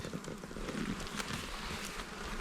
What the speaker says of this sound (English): We have some bees on the lid.